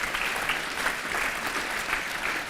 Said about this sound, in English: huge round of applause to our amazing marketing and events team